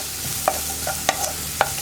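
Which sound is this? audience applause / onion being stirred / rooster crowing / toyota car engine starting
onion being stirred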